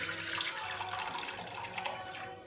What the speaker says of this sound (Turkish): Bu sumak suyunu süzüyoruz buraya.